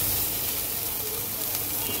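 Water poured into hot sizzling masala for a fish curry of tengra fish with yardlong beans, giving a brief, close, steady hiss and sizzle.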